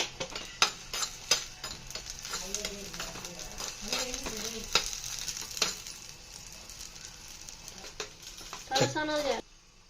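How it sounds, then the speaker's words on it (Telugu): Raisins fry in ghee with a light sizzle and repeated clicks and scrapes of a spoon against the pan, close by, while a voice talks intermittently over the cooking. "నెయ్యిలో కిస్మిస్ వేయించుకుంటున్నాను"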